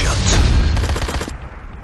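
A single sniper rifle shot in the mobile shooter Sniper X: a sharp, loud, close crack with a short booming tail that fades out quickly.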